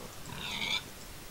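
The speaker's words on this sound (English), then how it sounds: "These pigs are dead." A single pig oinks in the Minecraft video game, a brief grunting squeal about a second long, fairly close and clear over a quiet background.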